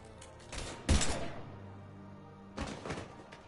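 Two bursts of video game gunfire, a loud sharp volley followed later by a second, softer burst, with a low steady hum sustained between them.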